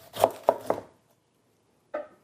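A knife cutting the bottom off a pineapple: three quick, crisp chops close together, a short pause, then one more firm cut, close and clear with no talking.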